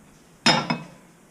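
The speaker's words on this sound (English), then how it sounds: "So, move my pan out of the way." A metal pan pushed aside on a stovetop after poaching eggs: two quick clinking knocks in close succession, close and brief, in an otherwise quiet kitchen.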